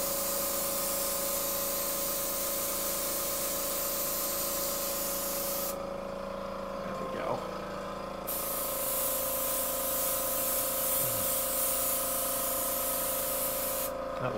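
An airbrush sprays paint onto a horse model with a continuous close hiss, a steady airy noise that drops out briefly twice as the trigger is released.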